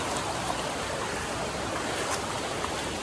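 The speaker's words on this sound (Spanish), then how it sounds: "Estamos encantados y asombrados con esta belleza de río aquí." A river rushes along a hiking trail, an even, dense, close-up roar of running water that holds steady throughout with no talking.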